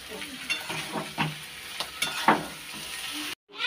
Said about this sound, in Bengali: এটা একটু নাড়া দিয়ে একটু লাল লাল করে ভাজা করো।